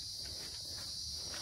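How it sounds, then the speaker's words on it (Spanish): Crickets chirp in the countryside in the late afternoon, a faint, steady high trill running continuously under quiet rural background. "los grillos todavía cantando porque piensan que es de noche"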